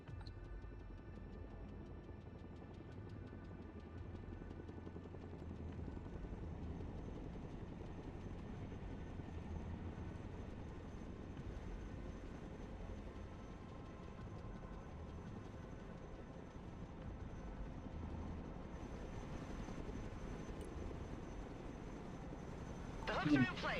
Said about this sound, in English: Now the helicopter will move.